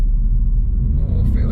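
A 2023 Audi A1 with 110 hp pulls away from a standstill off the brake, its engine a steady low rumble heard from inside the cabin, building slightly near the end alongside a brief higher noise.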